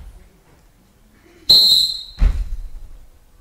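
A single sharp blast of a coach's whistle cuts through a quiet basketball court, followed by a thud of a ball or landing feet.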